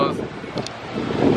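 Wind gusts roar and buffet the microphone outdoors while waiting for the gates to open before a Rangers game, loud and uneven, rising again toward the end.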